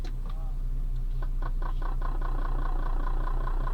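A Toyota Camry 30 engine with LPG gas equipment idles while switching from petrol to gas, a steady low hum with a faint whine and a few soft clicks.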